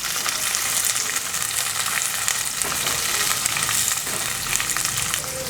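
Shallots fry in hot oil in a pan for a Kerala-style string bean stir-fry, giving a loud, continuous, dense sizzle with occasional stirring, and no voices.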